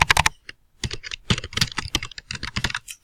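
Rapid bursts of keystrokes on a computer keyboard while typing a name, clicking in short irregular clusters with brief pauses, close and clear with no voices.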